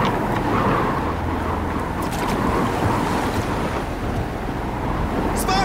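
Strong wind roars over rolling sea waves in a steady, loud wash of surf and gusts, with a faint brief sound near the end.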